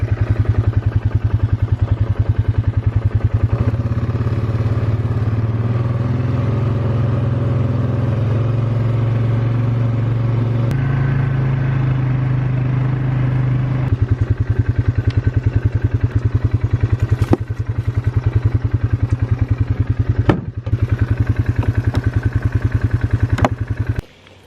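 An ATV engine runs steadily while riding a trail, a close, continuous mid-pitched drone with some clatter and slight shifts in revs, no talking over it.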